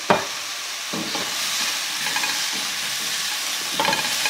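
Mushrooms stirred in a hot pan with coarse salt, a steady close sizzle and frying hiss with scraping utensil strokes repeating every second or so, no talking.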